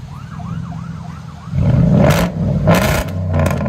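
Ford F-150 with a 5.0L Coyote V8 and loud true dual exhaust revving hard, a deep roaring burst after a quieter idle with an earlier wavering tone, up close and loud.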